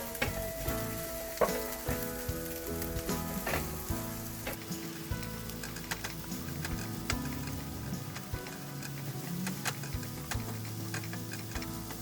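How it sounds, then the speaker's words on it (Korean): Mushrooms stir-frying in a pan for a diet curry fried rice, a steady sizzle broken by frequent clicks and scrapes of stirring, fairly quiet and close, with no voices. "버섯을 넣어준 뒤 2분간 볶아줍니다."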